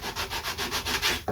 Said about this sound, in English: So let's sand that like that.